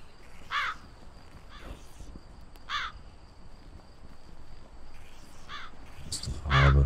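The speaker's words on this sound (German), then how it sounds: "Das ist doch Rabe." A raven in the video game Daydream: Forgotten Sorrow caws repeatedly, harsh rasping calls spaced a second or two apart over a faint insect-like background hum.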